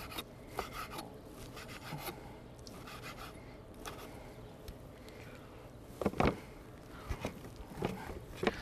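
Knife trimming cooked beef for Philly cheesesteaks on a board, a soft, irregular rasping and rubbing with a few sharper scrapes and taps near the end, close and fairly quiet, no talking.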